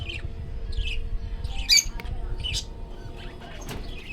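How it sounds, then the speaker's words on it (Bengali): Pet lovebirds and budgerigars in a home cage give short, scattered squawks and chirps, fairly faint over a low background rumble, with no talking. "এগুলো লাভ বার্ড, আর নিচের গুলো বদ্রি পাখি"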